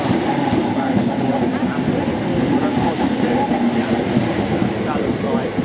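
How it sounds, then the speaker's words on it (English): A train passes a level crossing at a village, with a loud steady rumble of wheels on rails and clattering carriages, rolling continuously past close by. "stopped the train to allow the barriers up"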